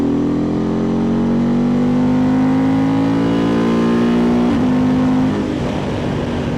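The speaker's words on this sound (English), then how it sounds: "let's do a 4th gear acceleration test" A 2024 Honda Transalp motorcycle with a flashed ECU accelerates hard in fourth gear, its engine note rising steadily in a loud continuous drone before easing off near the end.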